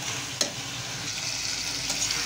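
Spices such as turmeric, chilli, coriander and salt sauté with ginger, garlic and cumin in a pan, a brief steady sizzle with one sharp stirring clack near the start and soft scraping, no voices.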